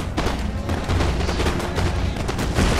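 Continuous battle din from a historical strategy game, with dense overlapping gunfire and artillery bursts rolling together into a loud, steady roar throughout.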